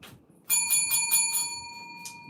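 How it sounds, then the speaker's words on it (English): A bicycle bell rings in a quick series of bright metallic trills, close and loud, followed by one last single ding. "Bells ringing,"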